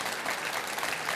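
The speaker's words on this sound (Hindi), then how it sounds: "नीले वाले और सफेद वाले में से भी 1-2 लोग ताली बजा रहे हैं" A studio audience at a televised Hindi debate show claps steadily in a brief, even burst of applause.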